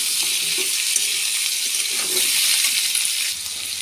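Mixed vegetables, including potato, carrot and pumpkin, stirred and fried in a pan, a bright steady sizzle broken by scraping clinks of the spatula against the metal.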